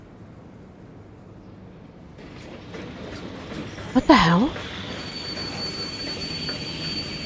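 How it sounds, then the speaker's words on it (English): A train in the video game Rain Code rumbles and grows louder, with high metallic wheel squeal rising over the noise; someone speaks briefly during it. "Another train?"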